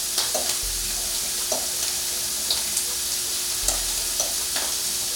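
A spoon stirs a breakfast bake mixture seasoned with black and white pepper, giving soft scraping strokes in a steady rhythm over a constant sizzling hiss from the pan.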